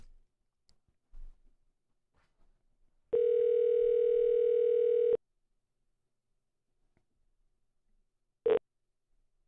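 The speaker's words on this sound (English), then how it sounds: "I always get so nervous doing these Gerald calls" A telephone call rings out during a prank call: one steady ringback tone lasting about two seconds, then a brief second tone burst, with near silence between and no talking.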